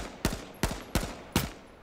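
Gunfire in the video game H1Z1: four sharp shots in a fairly even rhythm about a third of a second apart, each with a short echoing tail, loud and with no voices.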